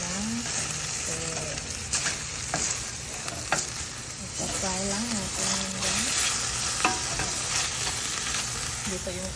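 Chicken pieces fry in hot oil for adobong pinatuyo, a steady close sizzle that runs throughout, broken by scattered clinks and scrapes of a utensil stirring the pan.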